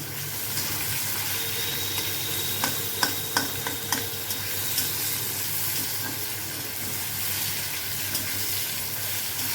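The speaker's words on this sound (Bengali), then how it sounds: "রসুনটা দেওয়ার পিঠে পিঠে দিয়ে দেব এই কেটে রাখা পেঁয়াজগুলো" Chopped onions and garlic sizzle steadily in a pan for a Bengali fish-head muri ghonto, with a continuous frying hiss and a few sharp spoon clicks against the pan, no talking.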